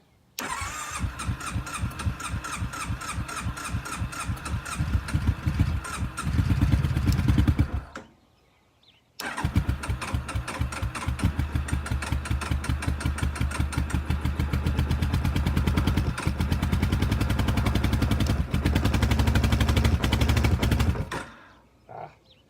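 A Kawasaki KFX700 ATV engine with the choke on cranks, fires and runs loud and close. It cuts out briefly around the eighth second, then restarts and idles steadily before shutting off.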